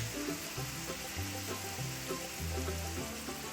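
Ground beef going into a hot pan for hamburger steak with Worcestershire sauce, a steady broad sizzle running throughout at moderate level, with low tonal music underneath and no talking.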